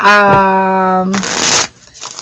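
A quick riffle of tarot cards being shuffled, a short dense burst of flapping that stops abruptly, following a sustained tone.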